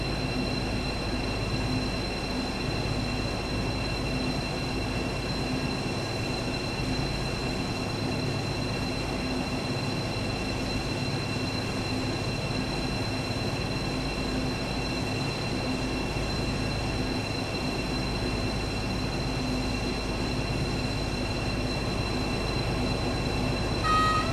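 BR218 train running on the Birmingham Cross City Line, a steady rumbling drone of the moving train with constant interior hum and faint tonal whine, loud and unbroken throughout.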